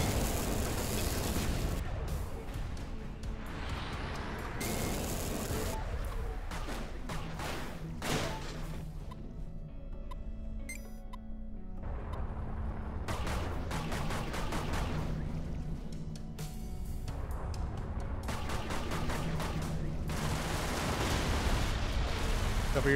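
Repeated explosions in the space shooter game Everspace, bursts of booming, noisy blasts rising and fading over about twenty seconds, with a quieter lull in the middle.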